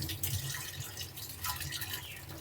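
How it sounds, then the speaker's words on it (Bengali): Chopped banana flower being rinsed in water in a kitchen, with steady dripping and splashing that continues close up and alone for a couple of seconds. "এখন ধুয়ে নেব।"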